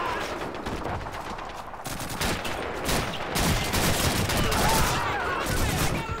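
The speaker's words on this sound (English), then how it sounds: "I just wasted a bunch of ammo on him" Machine gun fire in Call of Duty 2: dense, rapid bursts of shots with close, sharp cracks that go on throughout, set against a busy battle background.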